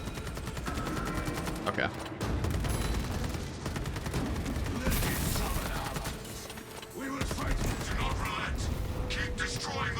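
Dense, continuous gunfire and clanking weapon mechanics fill a Space Marine video game battle, loud and close with only brief dips, while a voice speaks briefly over the din.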